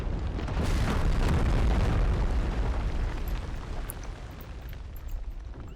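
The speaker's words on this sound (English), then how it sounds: "we're just bombarding this general area" Artillery bombardment in the Empire: Total War strategy game produces a dense, rumbling roll of overlapping explosions, loud at first and slowly easing, with scattered distant pops and no speech.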